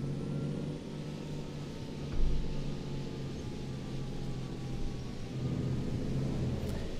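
Rain heard from inside a bus in the OMSI 2 driving simulator, a steady hissing wash over the low rumble of the bus engine, with one deep thunder-like thump partway through.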